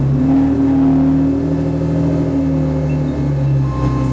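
A twin turbo Porsche race car engine runs steadily at idle, a loud, close, continuous rumble with a low droning tone and no talk over it.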